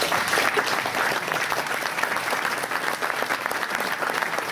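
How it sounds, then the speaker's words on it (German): An audience in Berlin applauds after a speech, a dense and even round of clapping that holds steady from start to end. "Applaus."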